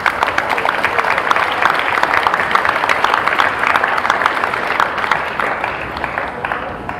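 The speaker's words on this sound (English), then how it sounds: "please, one and all, give yourselves a round of applause as well" A crowd at a high school senior awards ceremony gives itself a dense, sustained round of applause that fills the hall, then thins and fades toward the end.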